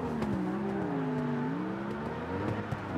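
Ferrari drift car in the video game CarX, its engine holding a steady, sustained drone with wavering pitch as it slides, close and continuous with a few small gear or throttle shifts.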